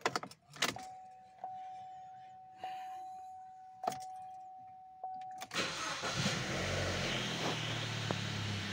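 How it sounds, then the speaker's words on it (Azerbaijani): A car engine is cranked over after an alternator belt replacement, with several short beeps and clicks before it catches and settles into a steady running idle. "Avtomobili işə salmağa."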